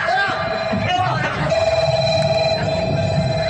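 A phone ringing with a steady electronic tone, partly under people talking nearby.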